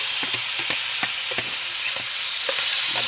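Crab fries in hot oil over an outdoor stove, a continuous crackling sizzle broken by repeated sharp pops and spits.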